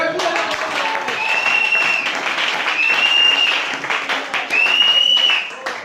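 A church congregation breaks into sustained applause and clapping, a dense, full crowd sound that swells and continues throughout, with a few voices and shouts mixed in.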